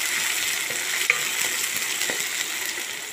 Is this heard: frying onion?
yes